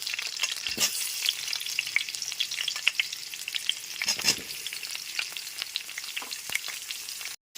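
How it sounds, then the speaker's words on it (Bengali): Pumpkin pieces and sweet potato sizzle steadily in a pan for a pui shak chorchori, with frequent scraping stirs and spatula clinks breaking through the constant frying hiss. "রাঙা আলুটা দিয়ে দু থেকে তিন মিনিট ভেজে নেওয়ার পর এর মধ্যে কুমড়োর টুকরোগুলোকে দিয়ে দিচ্ছি"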